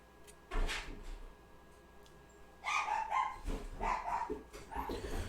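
Dogs in a home bark in short bursts at a distance, one early yelp and then a cluster of several barks later, over a quiet background hum.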